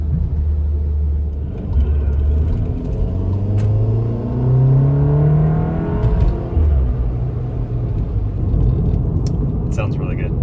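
A VW MK7 Golf R fitted with an Integrated Engineering intake pulls away from a stop on a wet road, its engine note rising steadily through the gear with a deep rumble and a brief lift partway through.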